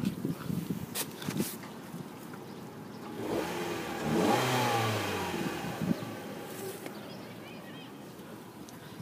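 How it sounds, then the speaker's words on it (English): The engine of a 2008 Hyundai Elantra SE runs at fairly low volume and swells into a brief rev in the middle before settling back, with faint background noise around it. "I'll let you hear the engine compartment."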